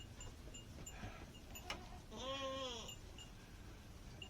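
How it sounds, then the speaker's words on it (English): Boer goats on a farm in the rain: a single wavering bleat rises clearly in the middle over a soft background of patter and faint clinks, fairly near and otherwise quiet. "Hello, goats. How are you?"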